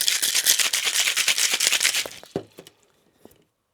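A cocktail shaker packed with ice and a tequila limoncello mix rattles in fast, even strokes for about two seconds, then a few last knocks as it settles, close and clear with no talk.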